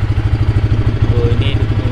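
Idling RS150 motorcycle fitted with an Uma Racing exhaust, 28 mm back pressure, thumping in a fast, even pulse close by at moderate loudness.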